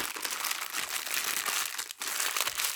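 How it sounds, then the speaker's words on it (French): Someone crumples an old piece of plastic packaging in their hands, making a continuous close, loud crinkling and crackling with one brief pause. "Je vais vous montrer un effet intéressant qu'on peut faire avec du plastique froissé. Tout simplement un vieux morceau d'emballage"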